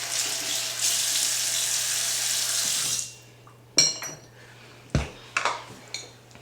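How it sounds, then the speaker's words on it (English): Tap water runs steadily into a sink for about three seconds while skin is rinsed during a skincare routine, then stops, followed by a few soft splashes and drips nearby. "after that, I'll rinse it off."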